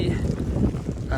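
Freezing winter wind carrying snow buffets the microphone on an elk hunt in Nevada, a brief, muffled rushing gust with a voice faintly present underneath.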